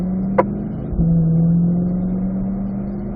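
A Corvette on a track during an owner school session, its engine droning steadily with a brief shift blip as it moves up into third gear, then holding a smooth, continuous hum.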